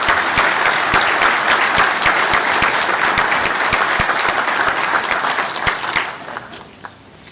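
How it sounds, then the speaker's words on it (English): A convention audience at a general session breaks into loud applause, with individual sharp claps standing out in an irregular rhythm; the clapping holds steady, then thins out and fades near the end. "a big round of applause for these young men"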